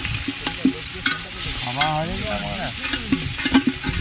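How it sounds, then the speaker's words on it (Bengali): Onions frying in a pot for handi chicken over a stove, a soft sizzle under repeated scraping and stirring strokes of a spoon against the pot, with scattered clicks and knocks. "এখন পেঁয়াজ ভাজা চলছে"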